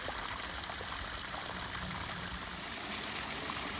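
Rainwater pours in a steady, continuous rush from a field drainage outfall fed by lateral drains, a constant broadband hiss with no pauses and no voices.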